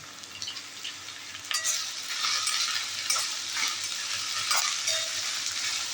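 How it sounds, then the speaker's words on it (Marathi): A large onion sizzles and fries in a pan with chilli paneer vegetables, a steady hiss broken by bursts of stirring and spatula scrapes, close and continuous with no voices. "आता आपण ह्याच्यात हा मोठा कांदा घालून घेऊया"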